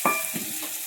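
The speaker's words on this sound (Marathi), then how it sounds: "तेलात घेतले आता आलू टाकून मस्त. ते आता फ्राय करून घेऊ आपण ते." Soaked potatoes hit hot oil in a pan and set off a brief, soft sizzle that fades within a second.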